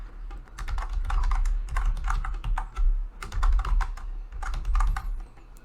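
Rapid keystrokes clatter on a computer keyboard as a password is typed, bursts of clicks with brief pauses between groups, close and steady over a low room hum.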